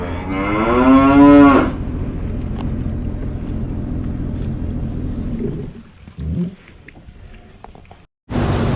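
A cow with calves near a waterway lets out one loud, close moo, followed by a long stretch of wind and low rumbling.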